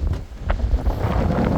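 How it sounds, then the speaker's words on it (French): Steady wind blowing outdoors next to a parked 2016 BMW 535d F10, a low broadband rumble buffeting the microphone with gusts and no speech. "il y a un petit peu de vent"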